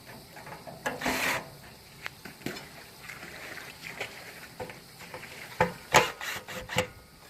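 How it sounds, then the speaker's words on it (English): Screws are driven into the top post plates of an above-ground pool's walk-around decking: uneven bursts of rasping, grinding driver noise at close range with short pauses between them, no talking. "the top post plates here, that's the screws that are going in here."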